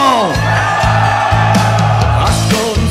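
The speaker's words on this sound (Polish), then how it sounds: "Wszyscy panowie krzyczą!" Men at a wedding party shout together in a loud, sustained crowd yell. The shouting sits over pounding dance music with a steady, thumping beat.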